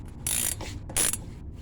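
A ratchet wrench cranks on the front shock bolt of a 1999 Ford Explorer in two quick bursts of rapid clicking, close and loud, with a short pause between them.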